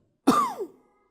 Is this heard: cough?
yes